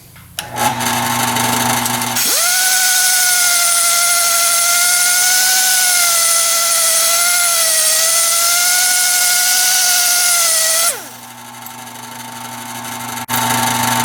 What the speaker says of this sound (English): I've switched to this sanding flap wheel here